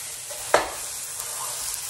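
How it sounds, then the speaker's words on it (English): Ground beef hitting a hot frying pan, with a brief sharp sizzle burst at first contact, then a steady close hiss of frying meat continuing on its own. "here it's hitting the pan and starting to sizzle."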